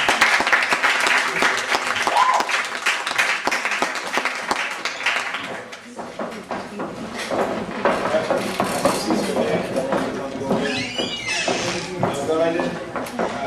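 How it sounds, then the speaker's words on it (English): An audience at a community gathering claps and cheers, a loud, sustained spell of applause with lively voices talking and calling out over it. "Let's clap it up for our boo, y'all."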